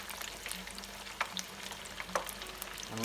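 Battered lobster tail frying in hot oil, giving a steady close crackling sizzle with scattered sharp pops throughout, and no one talking.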